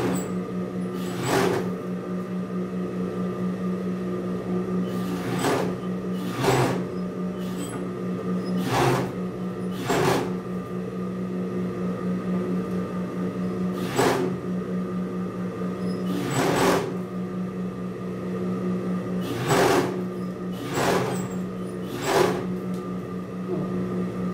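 A noisy sewing machine hums steadily while stitching a disposable surgical cap, with sharp periodic clacks every couple of seconds as the fabric is pleated and fed.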